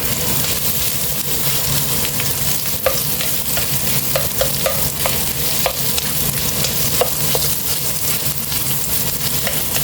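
Minced beef frying in a pan produces a steady, close sizzle, punctuated by sharp scrapes and clicks as a utensil stirs it; no one speaks.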